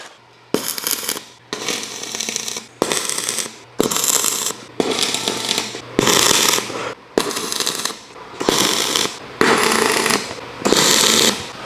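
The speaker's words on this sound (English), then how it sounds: "So now I'm going to go back through, tack all through this to try to keep it square." Tack welds on a steel garage canopy frame crackle in about ten loud bursts of harsh buzzing sizzle, each lasting around a second with short quiet gaps, close by and with no voices.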